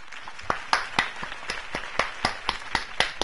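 Crowd applause for Harvey Dent's speech in a Batman video game: a sparse, fairly close burst of individual claps repeating in a steady rhythm.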